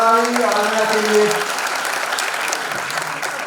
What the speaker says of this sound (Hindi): जोरदार तालियां बरकरार आने के लिए